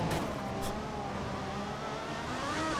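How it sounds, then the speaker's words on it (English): A Formula 1 car engine in the video game F1 2014 howls steadily at high revs throughout, a continuous buzzing roar with slight pitch shifts, loud and close. "engine sounds great"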